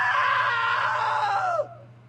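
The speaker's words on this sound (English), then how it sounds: "Now that was a great scream." A loud, drawn-out scream in the video game What Remains of Edith Finch, held strongly for about a second and a half before cutting off abruptly, with a low steady hum underneath.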